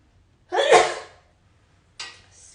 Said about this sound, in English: I felt the need to sneeze